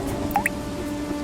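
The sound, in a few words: water dripping from leaking roof, story sound effect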